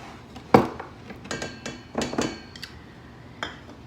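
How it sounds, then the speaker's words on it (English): All-purpose flour is scooped into a bowl, heard as a series of close clinks and knocks of a measuring cup or utensil against the bowl, with one sharper hit early on and lighter taps after. "So we're just gonna scoop that into our bowl"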